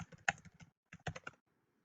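Keys clatter in two quick bursts of typing on a computer keyboard, close and fairly quiet, separated by a short pause and followed by near silence.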